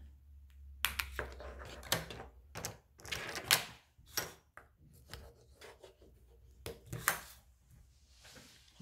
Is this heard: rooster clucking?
no